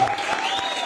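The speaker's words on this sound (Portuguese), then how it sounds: "Uma salva de palmas para o Senhor." A short burst of congregational clapping at a church praise and worship service, with a sustained sung or played tone running beneath the claps.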